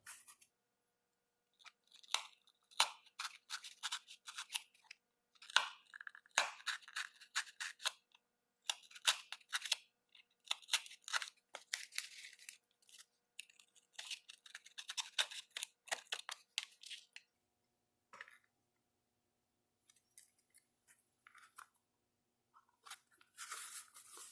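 Hobby knife or scissors cutting a rectangular opening for a servo mount, heard as repeated close, crisp snipping and crunching bursts in irregular clusters, with short pauses between strokes and a quieter stretch near the end.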